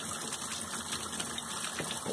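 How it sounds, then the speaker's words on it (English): Water runs steadily over a model horse as it is rinsed clean, a continuous close gushing spray with a faint pump-like hum underneath and no voices. "So then what we do, we rinse that off."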